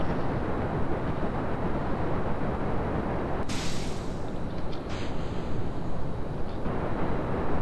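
A rocket engine in Kerbal Space Program fires under throttle, a loud, steady, broadband roar that holds constant throughout, with a brief high beep and a faint tone in the middle.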